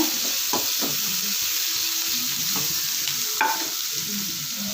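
Chopped onions and dried chillies fry steadily in a pan, with a continuous close sizzle and occasional stirring scrapes.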